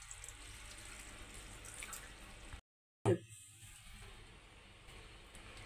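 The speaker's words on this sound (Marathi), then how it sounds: "याच्यावरती आपल्याला लगेच थंड पाणी ओतून घ्यायचं आहे।" Cold water streams over cooked noodles drained in a colander as a faint, steady rush that cuts out briefly and then resumes.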